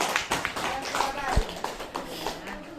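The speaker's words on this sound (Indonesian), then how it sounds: "Tepuk tangan dulu untuk kita semua." A group of teachers and parents clap together after a cooperation game in a school setting, a brief burst of scattered hand claps mixed with voices talking over it.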